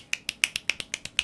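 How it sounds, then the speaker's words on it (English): Eight crisp finger snaps ring out close and alone, evenly spaced in a quick steady rhythm over about a second. "Here's how I learned to snap."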